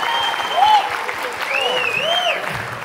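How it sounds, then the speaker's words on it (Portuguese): Audience at a Brazilian stand-up comedy roast applauding steadily at moderate volume, with whistles and cheers rising and falling above the clapping. "mais um aplauso para Nini Magalhães."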